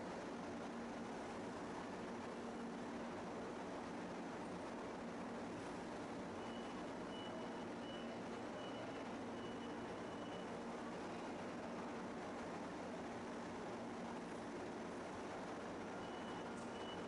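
Forklifts working a material-handling floor over a faint, steady mechanical hum, with a thin, repeating reversing beep joining partway through and continuing softly to the end.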